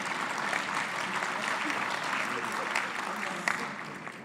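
Audience at an education sector lekgotla applauding the rapporteurs, a steady, moderately distant wash of many hands clapping for a few seconds with faint voices mixed in and a couple of sharper claps near the end.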